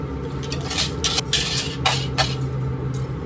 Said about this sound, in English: I'm going to add in my rice that has that a little bit of oil and salt.